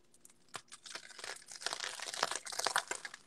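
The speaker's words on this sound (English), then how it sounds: "I just want you guys to hear the crunch." Fresh-baked sourdough crust crackling and crunching as it is pressed and broken, a dense run of crisp close crackles growing louder toward the end, with no voices.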